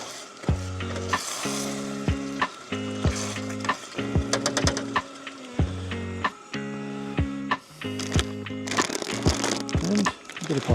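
Pasta bolognese being stirred in a camp pan, with repeated scraping, sizzling strokes in an irregular rhythm, heard close up over a steady hum, with occasional clinks.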